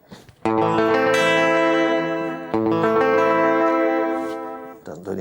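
Electric guitar plays an instrumental at a reduced tempo through an echo effect, sustained ringing notes trailing off with repeats, loud and close, steady for about five seconds.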